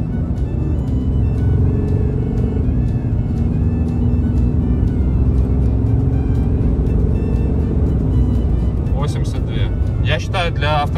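A Dodge Ram 3500 HD pickup accelerates at full throttle, producing a steady, heavy engine drone and low rumble heard from inside the cab, with a voice briefly audible over it.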